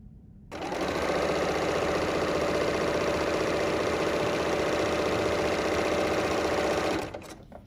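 A Bernina L 890 sewing machine stitches shoelaces at reduced motor speed, a steady, even mechanical whir running continuously for several seconds at close range before stopping.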